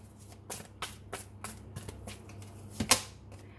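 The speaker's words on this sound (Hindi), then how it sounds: "एक कार्ड और लेते हैं।" Tarot cards being shuffled and drawn, a series of quick papery flicks and riffles close up, about eight soft separate snaps, the last one sharper and louder.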